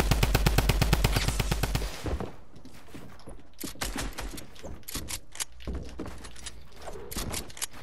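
Rapid automatic bursts of video game gunfire rattle out loud and fast, then give way to scattered single shots and sharp cracks in a shooter game, with no voices over them.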